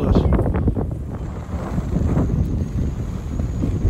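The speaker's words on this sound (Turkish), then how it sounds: "tabii rüzgar var, hava çok soğuk" Strong, cold mountain wind at the Ilgaz Mountain ski resort buffets the microphone in a constant rumbling roar, loud and close, with a faint high whine running through it.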